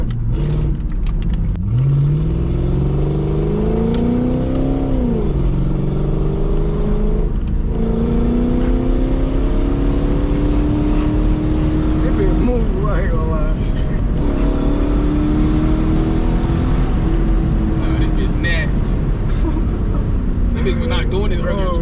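A Lexus SC400 with a 1UZ V8 engine revs repeatedly, its pitch rising and falling in loud, close surges while voices talk over it.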